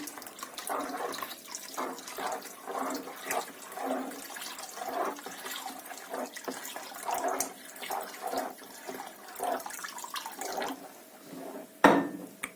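Water pouring steadily into homemade sour cherry juice while it is stirred with a spoon, a continuous close splashing flow with faint clinks and a sharper splash near the end.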